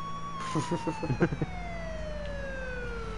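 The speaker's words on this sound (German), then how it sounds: "Wir haben die Sirene, ihr müsst uns alle aus dem Weg gehen." A police car siren wails in the H1Z1 battle royale game, a steady descending tone running the full length, with a voice talking over its first half.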